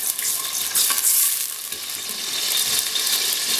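Cumin and kalonji seeds splutter in hot oil alongside curry leaves, a bright, steady sizzle with fine crackling pops heard close up and alone.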